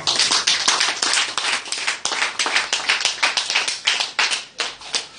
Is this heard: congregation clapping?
yes